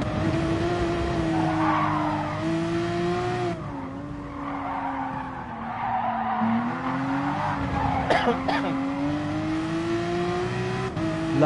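A Porsche race car in Gran Turismo Sport holds a steady, droning engine note while its tires squeal and skid almost continuously. There is a small dip in engine pitch partway through and a couple of short clicks near the end.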